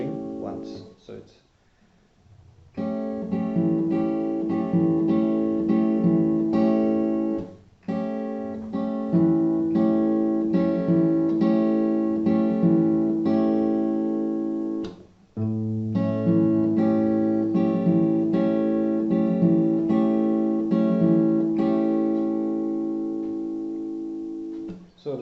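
An acoustic guitar plays part of a song, ringing chords that are strummed and held, with a short quiet opening and brief breaks before new chords ring out clearly.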